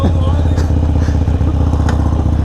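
A Harley-Davidson Sportster motorcycle engine runs while riding, a loud, continuous low throbbing rumble with a steady pulsing beat, and voices talking faintly beneath it.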